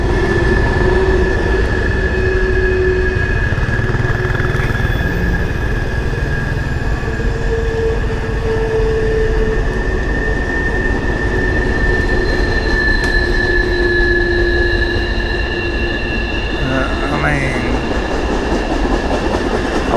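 A graffiti-covered train rolls steadily past near a wooded trail, a loud continuous rumble of wagons and wheels with sustained high metallic squeals drawn out across the whole stretch and no voices.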